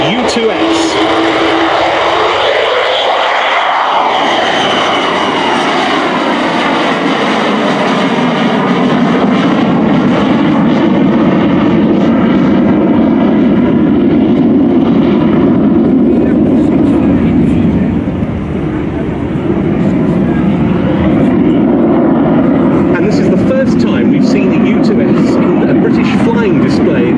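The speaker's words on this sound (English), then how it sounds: "here it goes, the Lockheed U-2S." Lockheed U-2S Dragon Lady reconnaissance jet of the US Air Force's 99th Expeditionary Reconnaissance Squadron, performing at the RIAT 2024 airshow, roars loudly and steadily with a broad, sweeping engine rush that shifts in pitch as it passes.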